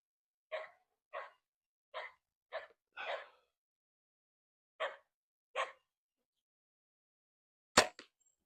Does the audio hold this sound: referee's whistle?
no